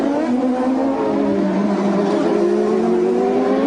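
Bobby Rahal's CART race car cornering on the Toronto street circuit, a loud high-pitched engine whine with gliding harmonics as revs shift through the bend, steady and close.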